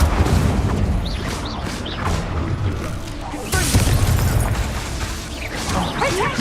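Fiery incendiary ability bursting in a competitive shooter game, a dense roaring blast with booming, crashing layers and a sharp surge midway, fairly loud under continuous game noise with some voice.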